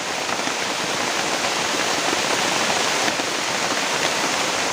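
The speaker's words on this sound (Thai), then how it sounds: "ฝนจะ ตกหนักขนาดนี้นะครับ" Heavy rain pours down in a forest during a jungle walk, a dense, steady roar of drops on leaves and ground that stays loud and close throughout, with no voices.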